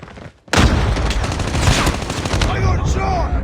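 Shotgun blasts in a video game firing in a dense, loud barrage, booming reports overlapping almost continuously after a brief quiet start.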